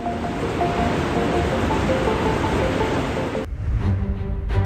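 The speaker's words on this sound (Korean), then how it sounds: "강한 바람은 평범한 폭포를 중력으로 거스르는 독특한 현상으로 바꿉니다." Strong wind drives a waterfall backwards against gravity, a dense, loud, steady roar of rushing air and water that cuts off abruptly near the end, leaving a quieter gusty rumble.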